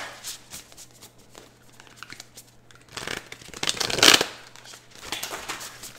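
A thick Dark Mansion Tarot deck is shuffled close by, with dry papery riffles and rustles in short bursts that swell into a louder flurry of card handling before easing off.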